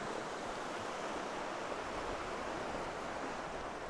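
Ocean waves wash up onto the shore in a steady broadband rush, fairly faint and even, with light wind noise across the microphone.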